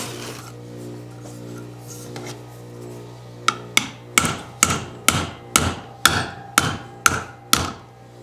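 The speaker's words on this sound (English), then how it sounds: "Just comes down to whacking shit with a screwdriver." A screwdriver whacked against a 2x72 belt grinder motor on a workbench during wiring, about ten sharp, evenly spaced metallic strikes close by after a steady electrical hum, with no talking.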